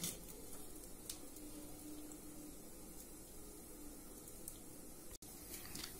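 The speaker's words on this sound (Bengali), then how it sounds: "হাঁড়িতে আমাদের জলটা ফুটছে" Water boils in a pot for steaming momos, a soft, steady bubbling hiss, close and continuous, quiet throughout.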